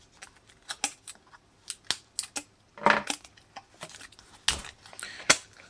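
Plastic shrink wrap being torn and ripped off the battery pack of a LiPower PA300 portable power station, a series of sharp crackling tears and snaps at close range, with short pauses between pulls.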